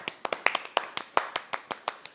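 A small group applauds a best actor announcement with a short burst of crisp hand claps. The claps come in an uneven, fairly quick rhythm and sound close and moderately loud.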